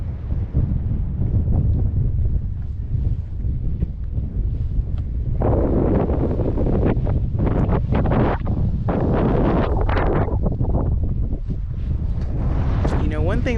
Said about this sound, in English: This wind out here is off the chain. It is so breezy out here.